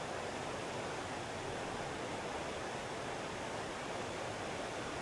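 River water rushes in a dense, unbroken roar at a crossing on a Himalayan mountain trek near Annapurna in Nepal, steady and moderately loud with no voices.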